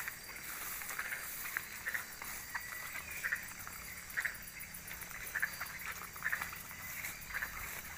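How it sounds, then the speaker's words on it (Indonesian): Frogs croaking at the edge of an Islamic boarding school, faint repeated croaks sounding every second or so over a dense hiss of ambient night noise. "terdengar suara katak tapi kayaknya suara katak biasa cok."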